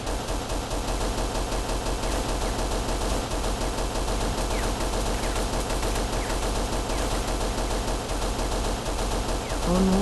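Gunfire in a Minecraft horror mod, a dense continuous stream of rapid shots, loud and sustained throughout, with a faint voice briefly near the end.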